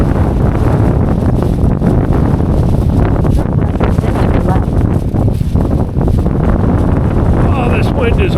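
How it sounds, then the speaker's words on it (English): Strong wind buffets the microphone on a trail beside a waterway flowing toward Lake Huron, a loud continuous roar and rumble with gusts throughout and a voice briefly heard over it. "Oh, this wind is horrible."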